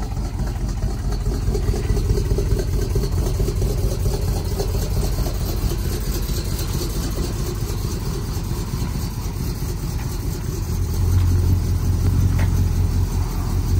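A 1976 Chevy K20 truck engine runs steadily at idle, a loud, close, continuous low rumble that holds for the whole stretch with no talk.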